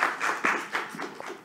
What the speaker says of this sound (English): So please give an applause for Chris Emery.